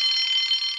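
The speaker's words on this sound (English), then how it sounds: "Soon came the alarm." An alarm rings in a steady, continuous high-pitched tone, loud and close, sounding alone for under a second.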